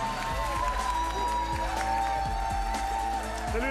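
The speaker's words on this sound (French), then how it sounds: "je vous demande d'applaudir très très fort notre 4e candidat, Andy" A studio audience on a French game show claps for a contestant. The applause is steady and fairly faint, sits under music and background sound, and runs the whole length.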